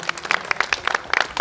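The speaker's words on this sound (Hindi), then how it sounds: "ताली के साथ उनका स्वागत करें।" Brief scattered clapping from a gathering welcoming a shared candidate at a Haryana panchayat election meeting, uneven individual claps fairly close and moderately loud.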